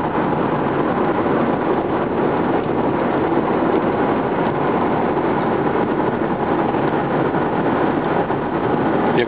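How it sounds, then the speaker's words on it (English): A 1995 Mercedes-Benz SL320 with an inline six-cylinder engine drives along, its engine and road noise a constant, loud wash throughout, with no distinct shift break standing out and no talking. "Vehicle has nice power"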